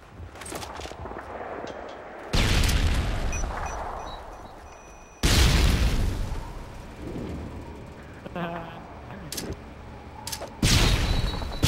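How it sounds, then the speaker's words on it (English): Heavy booming explosions in a Call of Duty: Modern Warfare 2 search-and-destroy match, a few loud blasts separated by quieter rumbling stretches. "Friendly predator missile incoming"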